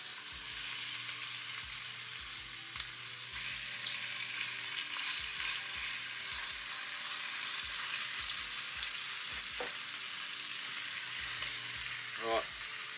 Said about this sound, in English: Get these beef cheeks in there browning off.